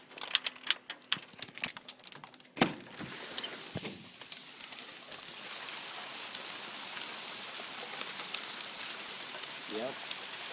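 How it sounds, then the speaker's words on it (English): Heavy rain mixed with pea-sized hail pelts a surface in a steady, loud roar, with sharp clattering impacts early on before it settles into a dense, continuous hiss. "No wonder it's so loud if it's hail."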